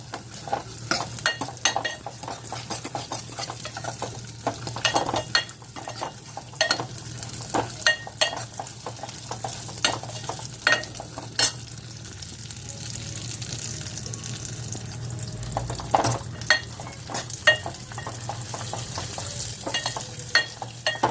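Cashews and raisins fry in a pan for sweet pongal, giving a steady sizzle broken by frequent scraping stir strokes and clinks, close and moderately loud, with no talking.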